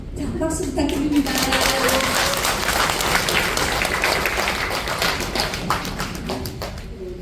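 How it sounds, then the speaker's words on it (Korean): A lecture audience gives a round of applause, dense clapping that swells and holds for several seconds before thinning out, with scattered voices mixed in. "박수 부탁드립니다"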